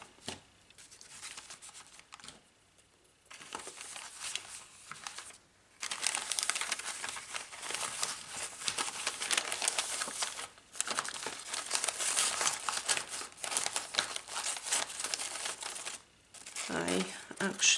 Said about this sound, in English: So I will place some paper